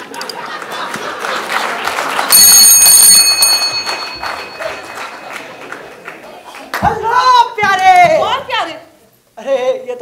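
A doorbell rings in a home during a Hindi stage play, a bright repeated electronic chime with sustained tones, followed by lively voices talking close by.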